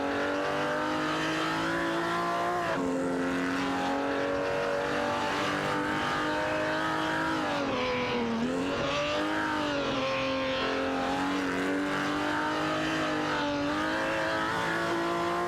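Race cars in an AI racing video game roar continuously, engine pitch rising and falling as cars shift and accelerate, with a dense overlapping engine drone that stays loud throughout.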